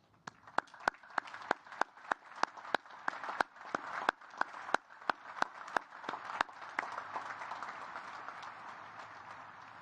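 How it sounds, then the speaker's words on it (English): An audience at the U.S. Naval Academy commencement applauds the graduates. Sharp, evenly spaced claps ring out near the microphone over softer distant clapping, then merge into a broad, steady round of applause. "Please join me in recognizing and applauding these distinguished graduates."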